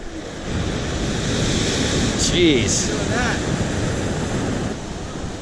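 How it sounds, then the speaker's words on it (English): Ocean surf rolls and breaks along a rocky coastline during a fishing outing. Waves wash in as a steady, loud roar with heavy wind buffeting the microphone, and a voice speaks briefly under the noise. "I think the waves are getting bigger."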